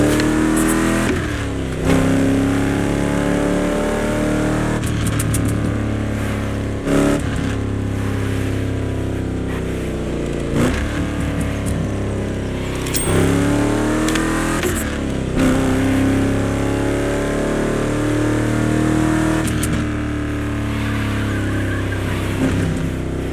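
A vintage luxury car, one of the priciest production models of its era, has its engine revving steadily in The Crew Motorfest, the loud continuous drone rising and falling in pitch over many seconds.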